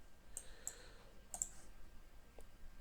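Several crisp computer mouse clicks spaced irregularly over a few seconds while setting up an AWS policy, quiet and close with a faint hum underneath and no talking.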